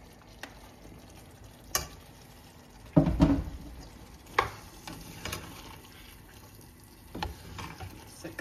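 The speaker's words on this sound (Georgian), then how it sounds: "ითუშება ჩვენი ბულგარული და ხახვი ტომატში" Bell pepper and onion stewing in tomato as beans are added and stirred, giving a soft sizzle with scraping stir clicks and a louder splash-like burst partway through, no talking.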